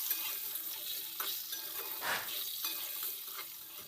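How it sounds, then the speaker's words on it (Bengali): Cut potatoes fry quietly in oil in a pan for a bhindi aloo curry, with a low, even sizzle and occasional light stirring knocks and scrapes. "এবার এর মধ্যে দিয়ে দিচ্ছি কেটে রাখা আলুগুলো। এখন আলুটাকেও এই তেলের মধ্যে ভেজে নেব।"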